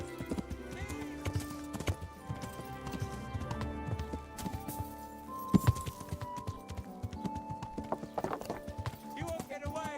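Hooves clip-clop at a steady galloping rhythm from a horse in a video game, joined by a brief whinny, with game voices shouting over a busy, dense mix throughout.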